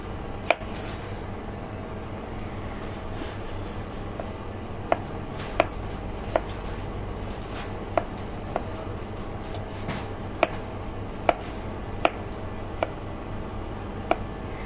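A knife chops food on a board in a home kitchen during a Christmas cooking session, giving a dozen or so sharp, evenly spaced taps spread across a steady hum of background noise.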